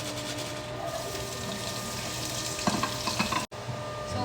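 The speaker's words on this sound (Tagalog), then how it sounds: "Gisa-gisa. Isa muna natin yung luya, sibuyas, tsaka bawang." Ginger, onion and garlic sauté in a pan for beef pares with a continuous close sizzle. Toward the end a few brief clatters of stirring break through, followed by a sudden cut.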